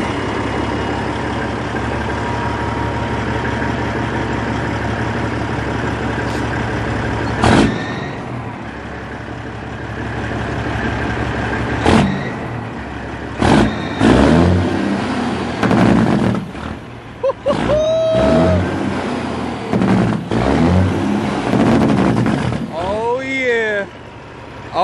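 A Peterbilt 379 semi truck's heavy diesel engine runs and idles loudly with sharp bursts and revs later on, and people talk over it.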